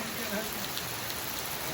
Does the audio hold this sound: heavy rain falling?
yes